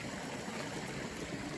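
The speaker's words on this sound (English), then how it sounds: "River crossing thing here." A stream at a river crossing on the John Muir Trail rushes in a steady, full, continuous wash of flowing water, close and loud, with no talking.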